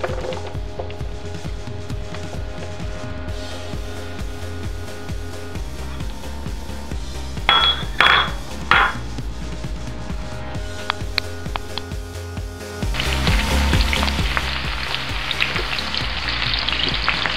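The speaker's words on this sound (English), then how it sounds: "I'm just gonna go ahead and add the onions as well as the garlic and ginger that I cut up earlier" Chopped onions, garlic and ginger hit a hot skillet for shrimp and broccoli, sizzling steadily with a few wooden spoon knocks, then the fry swells louder and brighter near the end.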